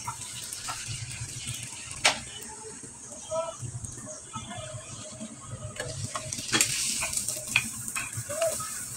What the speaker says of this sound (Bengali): এভাবে আমি অনেকগুলো ফুচকা ভেজে নিয়েছি